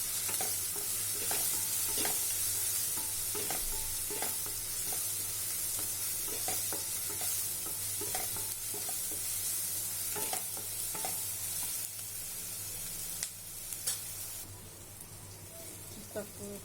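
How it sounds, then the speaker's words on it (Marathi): A besan mixture with spices and asafoetida is stirred in a frying pan, with repeated scraping strokes over a soft continuous sizzle, close and moderately quiet. "आणि हे आता चांगलं मिक्स करून घेऊ."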